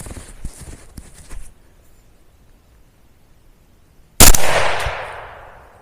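A single loud, sharp rifle shot rings out during a deer hunt, fired at a doe, its echo trailing off for over a second after earlier faint rustling and quiet.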